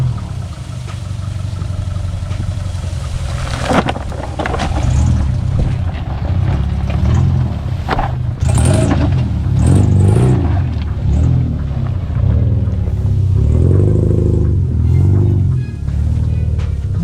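A car drives the rough, overgrown Alexander Mackenzie Trail, its engine droning steadily at close range. The engine note rises and strains in places, with scraping and thumps from the bushwhacking route.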